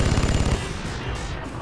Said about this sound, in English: I'm kind of shooting on our way to the Citadel